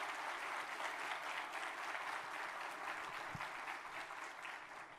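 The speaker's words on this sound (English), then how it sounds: "Please join me in applauding one more time the collective and inspiring commitment to this family." An audience at an Old Dominion University event applauding, steady sustained clapping from a large crowd, fairly distant and soft, continuing evenly without talk.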